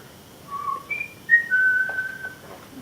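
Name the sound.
father's signal whistle imitated by speaker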